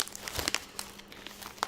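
Crinkling of a bag of Guinness rich chili thick-cut hand-cooked potato chips made by Burts in the UK, with close, soft plastic rustles and small crackles that come and go over a quiet background.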